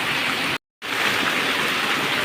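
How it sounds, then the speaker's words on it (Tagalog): Steady rain falls around a street vendor's stall in Provence, a dense, even wash of drops on surfaces. It is broken only by a brief dropout of silence before the downpour continues at the same level, with no voices. "wala nang tigil ang ulan"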